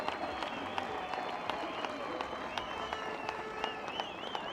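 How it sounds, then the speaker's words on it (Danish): A crowd at a women's U19 beach handball championship final between Hungary and Denmark applauds steadily, a dense patter of claps with a few louder sharp ones and voices mixed in. "skal vi give dem en stor hånd"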